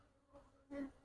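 Honeybees buzzing at an opened hive during frame inspection of a walk-away split, a close hum that swells in two brief bursts, with the louder one near the end.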